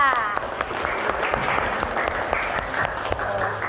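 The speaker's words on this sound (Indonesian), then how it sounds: "Ya, tepuk tangan untuk Alika." A class applauds a student during a school lesson, steady dense clapping from a room of hands running throughout at an even, moderately close level, with a voice briefly audible underneath.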